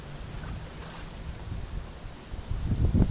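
Steady wind gusting outdoors at a carp fishing swim amid wind and rain, a broad rushing roar with low buffeting against the microphone that swells louder toward the end, no voices.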